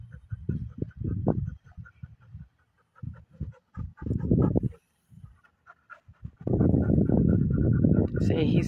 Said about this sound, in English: See, he's panting a lot.